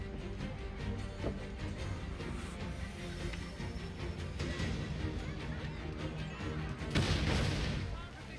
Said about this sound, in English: Why is there just a random explosion?